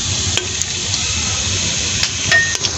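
Whole spices frying in hot oil in a pan, a steady loud sizzle throughout with a few brief metallic clinks of a utensil.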